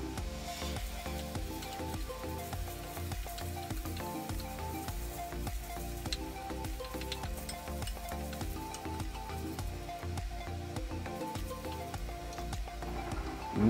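Bamboo shoots and potato sizzle in a pan for a Manipuri catfish curry, a soft continuous frying hiss with occasional stirring scrapes, fairly quiet and with no talk.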